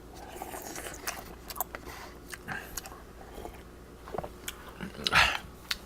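Close, wet slurping and chewing of Samyang Semomyeon fried kalguksu noodles with soft crunchy bites, steady eating noises up close ending in a louder slurp.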